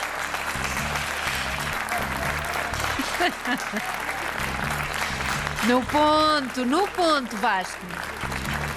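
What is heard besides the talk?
studio audience applause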